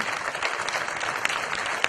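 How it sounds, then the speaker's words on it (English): An audience gives a warm round of applause for sixty program fellows standing up at an urban livability speaker series session, a steady, dense wash of clapping with a few sharper claps standing out. "give you all a round of applause"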